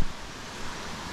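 Buderim Falls waterfall pours in a constant broadband rush, steady and fairly loud, a dense wash of noise with no voices.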